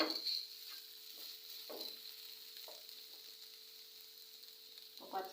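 Grated coconut and spices sizzling quietly in oil in a pan for a papaya curry, a soft hiss broken by a few light stirring scrapes.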